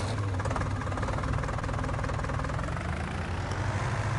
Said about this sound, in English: Now I've got it set so you've got to start the engine yourself